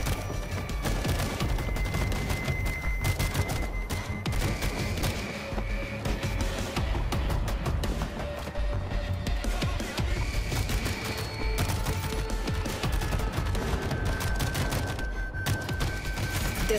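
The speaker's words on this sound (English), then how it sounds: "Machine gun locked in." Sustained gunfire from a mounted machine gun in the World War Z video game, with dense rapid bursts running without a break over a busy battle soundscape, loud and close.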